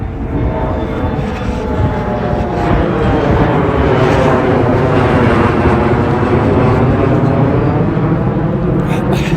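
Airplanes taxi in a line at an airport, a steady loud jet rumble and whine that holds throughout with slowly sweeping tones, heard outdoors from a distance during a run.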